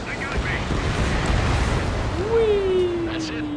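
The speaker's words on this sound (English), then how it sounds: "Mage 2, missile launch." Missile launch and explosion in the jet combat video game Ace Combat 7, a loud rumbling blast wash with a rising whine, under steady engine roar; speech is faintly present.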